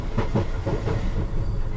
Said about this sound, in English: Ealing Broadway train, that's District Line if you're not sure.